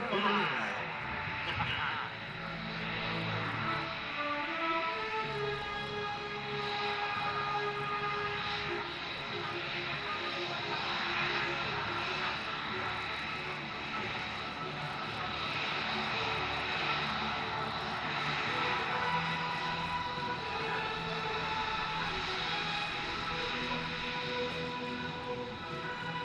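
Low, steady roar of F-35B fighter jets passing during a Marine Corps air-ground task force demonstration at the Iwakuni Friendship Day air show, a continuous broad engine rumble lasting throughout while a crowd and an announcer's voice sit underneath.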